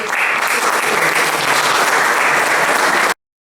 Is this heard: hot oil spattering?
no